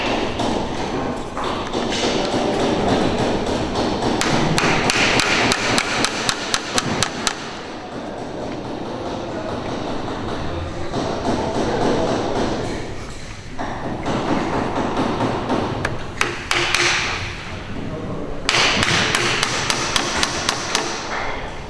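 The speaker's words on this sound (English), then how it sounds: "it's important when you nail the architrave in that we come approximately 50 to 75 mil away from the mitre to avoid splitting the architrave" Carpenter hammering nails into a wooden architrave near its mitre joint, giving a long run of sharp, close hammer blows in steady rhythmic bursts with brief pauses between runs.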